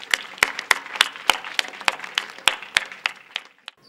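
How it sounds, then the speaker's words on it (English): Scattered applause for a speaker at an opening ceremony, a few hands clapping in a sparse, fairly regular rhythm of distinct sharp claps, close and moderately loud. "join me in giving her a round of applause"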